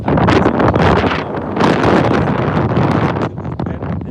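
Heavy wind buffets the microphone on a fishing boat in the Gulf of Mexico during Tropical Storm Bertha, a loud, continuous roaring rumble that swells and eases without a break.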